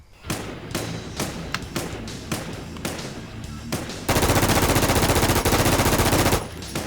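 Rapid video game gunfire from the shooter Infestation, starting with loud, irregular single shots and bursts and then a dense, sustained stretch of automatic fire near the end, with no clear talk over it.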